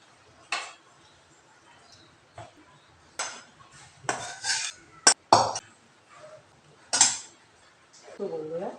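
A pot of cooked chicken lifted off a gas stove, with scattered metallic clanks and scrapes of pot and utensils, close and sharp, alongside a few moments of talking.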